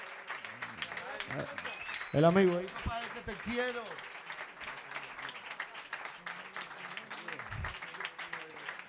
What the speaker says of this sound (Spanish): Fuerte aplauso para el maestro ahí